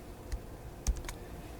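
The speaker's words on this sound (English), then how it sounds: "I'm going to type in 34 using my computer's keyboard." Computer keyboard keys tapped at a desk, a few isolated clicks spaced apart, close and faint in a quiet room.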